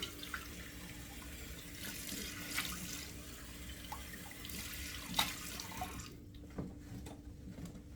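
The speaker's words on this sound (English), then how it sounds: "So now I'm going to run the cold water" Cold water runs steadily from a tap into a bathroom sink, a quiet continuous hiss and splash heard close, cutting off near the end with a few faint drips.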